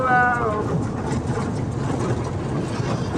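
A toy train at the Chennai Rail Museum rumbles and clatters steadily along its narrow track, a continuous close rolling noise, with a brief voice at the start.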